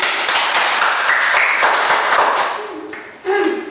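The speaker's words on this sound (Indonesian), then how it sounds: "Tepuk tangan semuanya." A classroom of students claps together during a lesson, a bright, busy patter of hands that thins out and stops near the end, followed by a short spoken voice.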